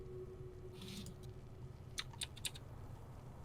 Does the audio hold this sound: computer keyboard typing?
yes